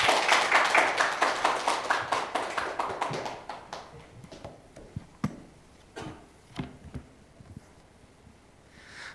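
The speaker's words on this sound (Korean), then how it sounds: "큰 박수로 격려하면서 모시길 바랍니다" Church congregation clapping to welcome a guest pastor to the pulpit: dense rhythmic applause at first, thinning after a few seconds into scattered individual claps and light taps before fading out.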